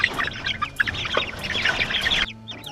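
Chickens cluck and chatter in a busy, overlapping flock, several birds calling close by at a steady level before the noise drops off near the end.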